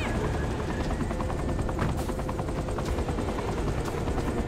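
A helicopter in the video game Saints Row The Third flies with a steady, loud whirring rotor chop that continues throughout with no pauses.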